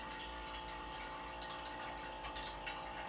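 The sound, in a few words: filtered water filling a glass jar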